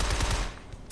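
Rapid gunfire from shooting robots in the video game Shadow Complex, a dense loud burst of shots in the first half that fades into quieter game noise with a brief sharp sound near the end.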